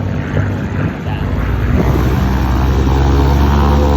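A polished bare-metal P-51 propeller fighter flies a five-point hesitation roll at an air show, its loud engine droning steadily and swelling slightly as it passes overhead.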